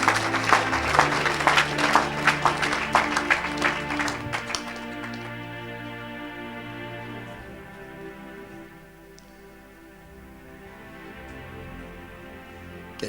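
A church congregation claps loudly and densely over sustained keyboard tones at a worship service, then the clapping fades after a few seconds and the music carries on alone.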